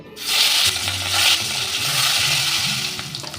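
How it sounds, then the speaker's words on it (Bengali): Rohu fish frying in hot oil in a wok, a steady loud sizzle with crackling and a few clinks of a utensil, no voices. "আমি মাছটা ভেজে নেব"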